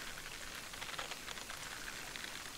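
Steady rain falls during a carp fishing tournament, a dense, even patter of drops that carries on without pause for the whole stretch and stays fairly soft throughout.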